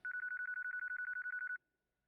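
A phone call rings in the video game Yakuza 4 Remastered, a rapid series of about sixteen clean electronic beeps in an even rhythm that then stops, with no voices.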